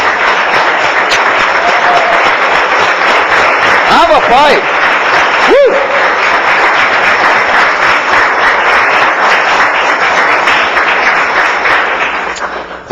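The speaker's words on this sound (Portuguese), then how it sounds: "Vamos aplaudir a Deus todo o nosso coração!" Church congregation applauding and cheering together in a steady, loud wash of clapping, while a voice calls out briefly above the crowd noise.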